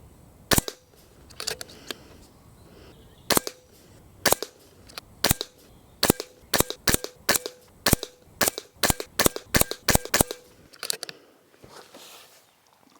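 An FX DRS Classic synthetic .177 air rifle fires a group of roughly twenty sharp, close shots. They come in irregular but fairly quick succession, each a crisp crack with a brief tail, and no one speaks.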